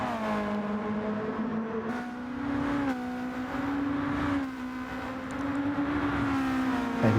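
Race cars modelled on Beetles drone through a racing video game, a steady buzzing engine note rising and dipping slightly as they battle for position, continuous and close throughout.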